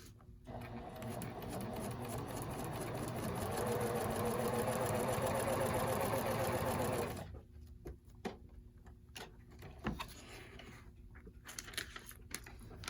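A sewing machine runs steadily for about seven seconds, stitching fabric for a quilt, with a fast even mechanical whir, then stops, leaving fabric rustling and small handling knocks.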